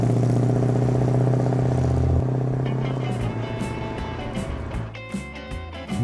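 A 1965 Ford Mustang convertible engine runs steadily with a deep, continuous rumble and a shift in pitch partway through, then a rougher, uneven tone with clattering near the end; no one speaks over it.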